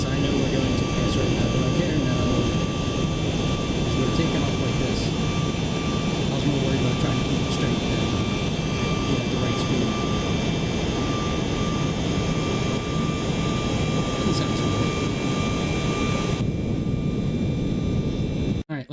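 Jet airliner engines roar steadily through a takeoff in the Aerofly FS Global flight simulator, a loud continuous rumble with a high whine that holds throughout before cutting off abruptly at the very end.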